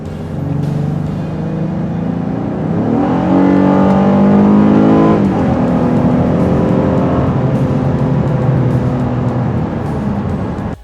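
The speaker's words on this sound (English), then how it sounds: "when I pushed down on the gas pedal to see how it accelerated, I was in for a little bit of a surprise." A 2020 Honda Passport SUV accelerates hard, its engine note rising steadily for several seconds and then holding at a loud, close, continuous drone with no talking.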